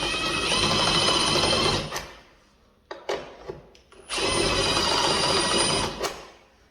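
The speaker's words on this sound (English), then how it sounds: "Drill a hole." A drill boring a hole while cutting door hinge slots, heard as two sustained whining bursts of a few seconds each, separated by a short pause with scattered clicks and knocks, close and loud.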